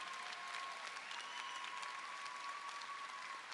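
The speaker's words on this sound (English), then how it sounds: "Give them another round of applause for their creative speeches." Steady applause from the crowd at Del Norte High School's 2013 graduation ceremony, a dense, even patter of many hands clapping with no break for the whole stretch, heard from some distance at a moderate level.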